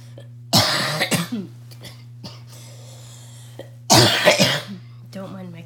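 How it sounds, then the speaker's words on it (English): Two bursts of harsh coughing, close up, separated by a few seconds of quiet with faint breaths and clicks over a low steady hum. "Don't mind my cough"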